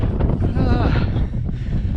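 Steady, loud wind on a hilltop in Northumberland buffets the microphone with a low, continuous roar and rumble, filling the whole stretch without a break.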